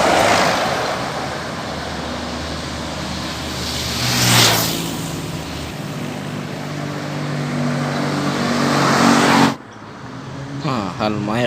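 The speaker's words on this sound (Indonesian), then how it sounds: "ini unit kedua bus Putra Pelangi yang jetlinernya" Putra Pelangi Jetliner bus passing along a straight stretch of road at Palas, a loud broadband engine and tire roar swelling to a peak midway and holding before cutting off sharply near the end.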